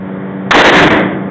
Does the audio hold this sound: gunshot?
yes